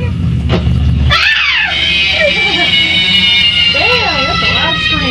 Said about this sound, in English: Damn, that's a loud scream.